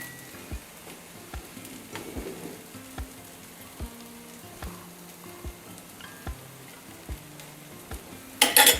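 A cucumber thalipeeth flatbread fries in oil in a pan over a low gas flame, giving a soft, steady sizzle with faint crackles, followed by a brief louder clatter at the end.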